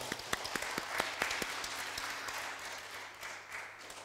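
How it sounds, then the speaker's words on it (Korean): Church congregation applauding during a service, with scattered sharp individual claps at the start that blend into a fairly faint, steady round of applause which softens toward the end. "우리 박수 한번 할까요?"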